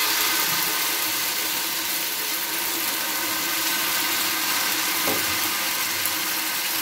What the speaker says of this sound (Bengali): একইভাবে আবারও অল্প তেল দিয়ে দিচ্ছি। ব্যাটার থেকে আবার অল্প দিয়ে দিচ্ছি।